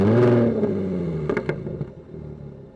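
A 2014 Jaguar F-Type V6 S sports car engine revs loudly, then settles while sharp exhaust pops and crackles burst out near the end.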